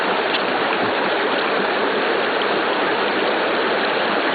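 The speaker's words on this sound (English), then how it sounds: "It's still bubbling all around it." Natural gas seeping up from the ground bubbles steadily through shallow water, a loud, continuous hissing and gurgling wash that holds without a break and with no voices over it.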